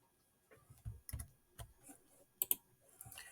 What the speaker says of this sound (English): So I click OK.